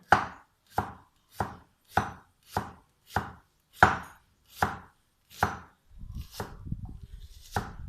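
A knife chops an onion sharply on a cutting board, about ten evenly spaced crisp strokes, followed by a softer scraping rustle.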